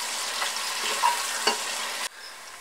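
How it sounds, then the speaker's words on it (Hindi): Finely chopped onion fries and sizzles in a pan while being stirred, a steady crackling hiss with occasional scrape accents that cuts out abruptly near the end. "अब हम इसको चलाते हुए अच्छे से फ्राई करेंगे हल्का सुनहरी होने तक।"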